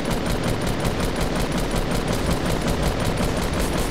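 Rapid automatic gunfire from the Fortnite battle royale video game sprays targets in a dense, continuous stream of evenly spaced shots, loud and close, with no talking over it.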